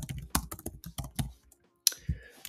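Rapid typing on a computer keyboard during CRM software work, a run of sharp close clicks in uneven bursts, a short pause, then a few more keystrokes, with no talking.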